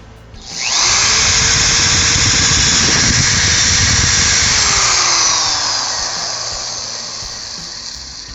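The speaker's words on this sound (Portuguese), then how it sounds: "Fiz um furo aqui com essa broca para madeira." A power drill fitted with a wood drill bit bores a hole through wood, a loud, steady high-pitched whine that starts abruptly, holds for several seconds, then eases and trails off under load.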